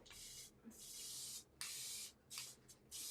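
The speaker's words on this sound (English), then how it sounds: "We're going to use the spray bond." Several bursts of hissing spray adhesive from an aerosol can, each lasting under a second, separated by short pauses, close and fairly quiet.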